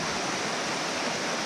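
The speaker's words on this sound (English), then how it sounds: "now we're going down to the river." River water flowing steadily nearby in rural Antique, Philippines, a dense, even rush of broadband noise that holds without pause and without any voices.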